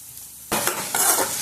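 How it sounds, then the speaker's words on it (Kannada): After a moment of near quiet, tomato for egg rice hits a hot pan and bursts into a loud, close sizzle, with a second surge of crackling as it is stirred. "ಟೊಮೆಟೊ ಕೂಡ ಚೆನ್ನಾಗಿ ಫ್ರೈ ಮಾಡ್ಕೊಳ್ಳೋಣ."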